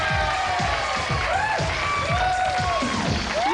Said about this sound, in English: And now, a big cheer for Joe and Orla.